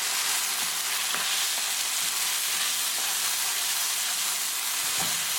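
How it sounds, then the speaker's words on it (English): Eggplant and tomatoes cook in a pan for baingan bharta while being mixed and mashed, with a dense, steady sizzle and hiss throughout and occasional soft scrapes, close and loud. "And now mix it and keep mashing."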